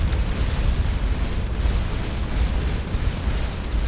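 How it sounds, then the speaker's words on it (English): A bright ship explosion in the space game Starcom: Unknown Space, a dense, sustained low rumbling burst that stays loud and even across the whole moment, with no voices over it. "Oh, that explosion was bright"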